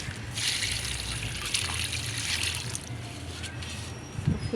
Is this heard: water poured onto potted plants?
yes